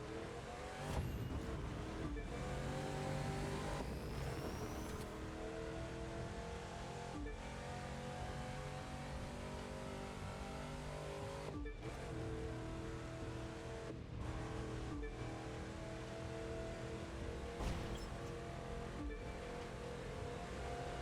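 Continuous car engine drone from driving in the racing video game The Crew 2, with sustained harmonic tones rising and falling across the whole stretch, steady and fairly prominent without speech.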